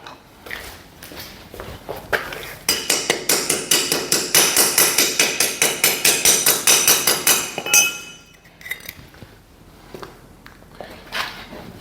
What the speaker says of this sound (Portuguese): Vou pegar o martelo pra gente bater.